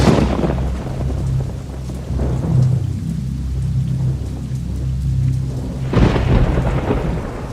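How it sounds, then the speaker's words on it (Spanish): Heavy thunder rolls and rumbles through a rainstorm over the city of Guanajuato, with loud crashes near the start and again near the end over constant hissing rain, and no voices. "Aquella noche llovía en la ciudad de Guanajuato y los relámpagos y los truenos no daban un"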